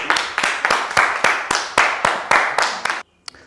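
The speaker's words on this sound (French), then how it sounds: "Applaudissez-y!" Rhythmic audience clapping for a performer, about ten sharp, evenly spaced claps in unison that stop abruptly, followed by a single faint tap.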